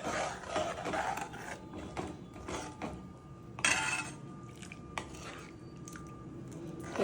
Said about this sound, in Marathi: आता यांना ढवळूया व्यवस्थित एकदम